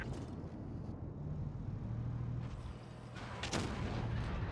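Tank cannon fire in World of Tanks Blitz, with a Centurion 5/1 in play: a sustained low rumbling battle bed with a sharp broadband blast near the 3.5-second mark and a few smaller thuds around it, heard alone.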